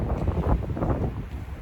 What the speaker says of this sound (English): so it's getting a bit windy out